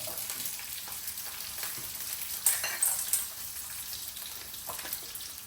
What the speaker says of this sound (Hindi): सब कुछ साथ में फ्राई कर लेना